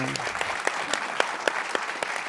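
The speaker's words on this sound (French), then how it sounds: "Donc c'est lui qu'il faut applaudir déjà en principal." Applause from an audience at a community event, steady clapping with sharper individual claps standing out, fairly close and continuous across the whole moment.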